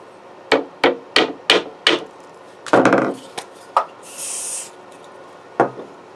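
A hammer taps glued parts into place on a custom Stratocaster-style guitar body in a workshop, with five sharp evenly spaced strikes, a rougher scraping burst, then a few more scattered knocks, close and loud.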